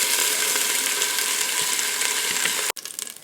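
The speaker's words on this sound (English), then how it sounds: "I am done browning my meat" Beef sears in the stainless steel bowl of an Instant Pot with a loud, steady, close sizzle that runs without a break and then stops abruptly near the end.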